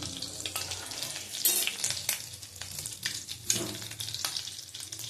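Whole garam masala, cardamom, cloves and cinnamon fry in hot oil with a continuous close sizzle, broken by scraping stirs and crackling bursts.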